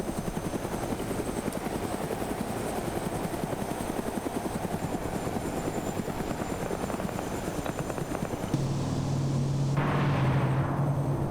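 A glitched helicopter sound in the Arma military game: a continuous rotor thump and engine drone, loud and steady, shifting abruptly to a harsher, buzzier tone near the end.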